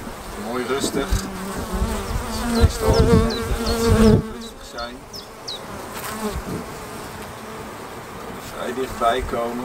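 Honeybees buzzing and zooming close around a beekeeper's head during a spring hive inspection, a steady dense hum with louder passes near the ear, with occasional faint talk underneath.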